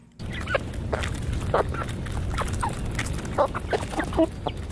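Chickens clucking in a yard, a steady flock of overlapping clucks and calls close by over constant background noise, with no talk.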